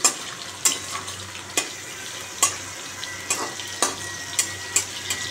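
Long potato strips, whole nigella seeds and four or five slit green chillies frying in oil, a steady close sizzle punctuated by repeated sharp scraping stirs at roughly regular intervals, with no talk.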